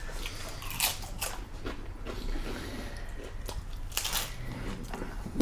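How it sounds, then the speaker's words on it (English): Crisp crunches of someone biting into super crunchy tacos, close to the mic, several irregular bites with chewing between, no talking. "Super crunchy tacos."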